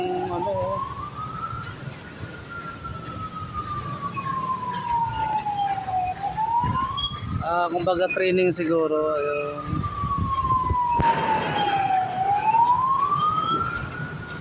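A fire truck siren wails near a street fire on Julia Vargas in the city, a loud, close, rising and falling tone with brief yelping bursts, while someone talks over it.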